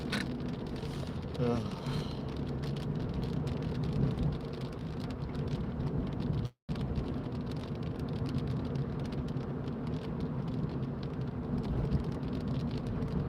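Steady heavy rain drums on a car during a drive from Walkden to Wigan in the UK on a very wet day, a continuous close wash with a brief dropout midway.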